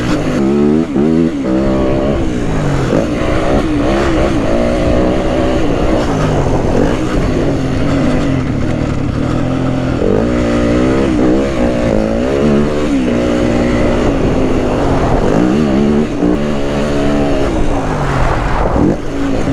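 A Yamaha WR250F dirt bike ridden on a motocross track at Mont-Laurier, its engine loud and close, rising and falling in repeated revving surges as the rider accelerates and shifts through the course.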